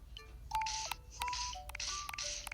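Phone dialing tones in the video game Tomodachi Life: a steady run of short electronic beeps in a quick rhythm, each tone distinct and clean over a soft background.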